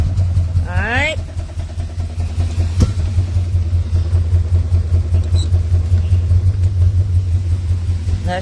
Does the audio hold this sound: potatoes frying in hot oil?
no